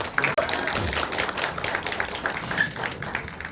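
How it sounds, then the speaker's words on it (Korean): Audience applause at a Democratic Party members' gathering, a continuous wash of clapping that fills the short stretch from start to finish. "다시 한번 큰 박수를 부탁드리겠습니다."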